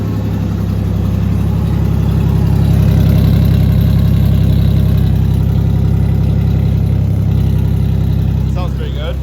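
A Ford Ranger's 3.0 engine running with a new cylinder head: a loud, steady, deep rumble close by that lasts throughout, rising a little in the middle before easing off.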